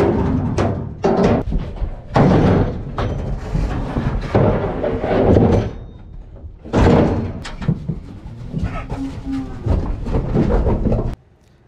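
Door of a livestock trailer overhead being opened during calf unloading, heard as a series of loud metallic bangs, clanks and rattles, a long burst of clatter in the middle and a final heavy thud, with no talking.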